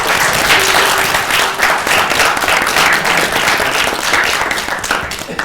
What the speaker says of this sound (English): Fantastic final round. Round of applause.